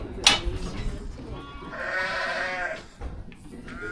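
A sheep under treatment gives a drawn-out wavering bleat, close by, with a sharp noise just before it and farm handlers talking quietly around it.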